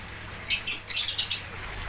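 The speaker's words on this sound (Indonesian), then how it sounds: "Burung lovebird nih." A lovebird gives a short burst of high, bright chirps and tweets, several quick notes in under a second, fairly close against a quiet background with no speech.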